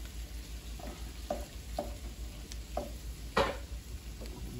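Potatoes with chorizo fry in a pan with a soft steady sizzle, broken by several light scraping stirs at irregular intervals and one sharper clack near the end.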